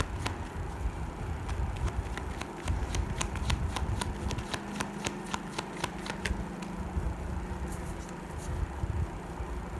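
A deck of tarot cards being shuffled by hand, a quick series of crisp riffling snaps and soft papery flutters, heard up close and continuing steadily over a low background hum.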